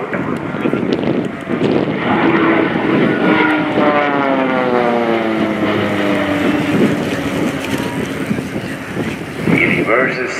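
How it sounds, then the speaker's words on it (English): A Pilatus PC-7 propeller aircraft at an air show pulls into a half loop near 400 km/h, its loud, steady engine and propeller drone sweeping in pitch as it passes close by, with a voice talking over it. "So here he comes, 400 kilometers per hour, and he goes for the first half loop."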